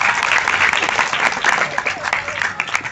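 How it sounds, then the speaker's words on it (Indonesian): Audience at a Maulid Nabi celebration in a school hall claps in a dense, steady burst of applause for a man just introduced, fairly close and continuous throughout. "Tepuk tangan untuk Pak Kevin"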